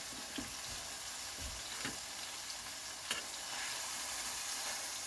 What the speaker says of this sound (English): I'm going to pour off some of this grease.